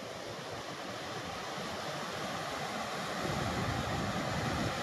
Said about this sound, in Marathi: आपण बघू शकता किती प्रमाणामध्ये पाणी वाहत आहे